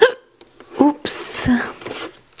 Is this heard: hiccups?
yes